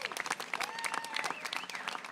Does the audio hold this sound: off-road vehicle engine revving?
no